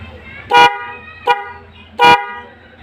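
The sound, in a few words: motorcycle horn honking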